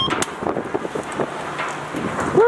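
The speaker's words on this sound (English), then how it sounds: "It's windy too." Strong gusts buffet an open microphone at a roadside fuel stop, a close rumbling roar with rustling bursts throughout and no talking.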